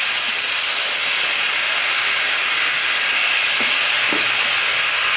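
An air compressor bleeds off its air in a loud, steady, continuous hiss up close in a workshop, with faint knocks underneath.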